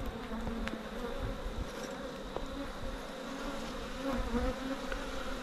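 Bees drone in a steady, dense buzz around an abandoned beehive that has been opened outdoors, close and continuous with a few sharper passes of single insects.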